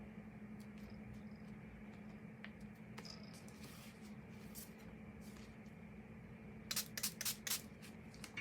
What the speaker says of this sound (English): let's just spray it on top